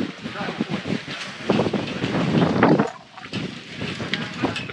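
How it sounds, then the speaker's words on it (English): Strong wind gusts buffet and roar near a Leopard catamaran at an anchor station off La Gomera in the Canary Islands, rising into a loud rush and then easing, with someone talking over it. "Pretty windy at this moment."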